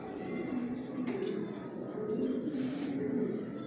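Pigeons of a Johnson line coo softly in a rooftop loft, a low murmuring chorus under steady faint background noise with an occasional brief flutter or tap.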